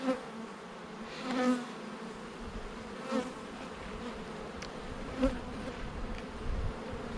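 Honey bees buzzing around an open beehive during an inspection, a continuous droning hum with several swells as individual bees pass close.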